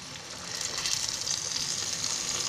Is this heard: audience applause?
no